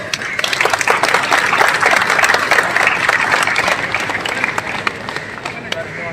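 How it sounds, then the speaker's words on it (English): Crowd applause at a Republic Day celebration after a platoon's march past, a loud, dense wash of many hands clapping steadily for several seconds and tapering slightly toward the end. "Let us appreciate the splendid performance with a big round of applause."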